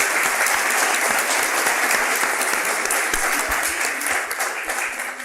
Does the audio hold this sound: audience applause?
yes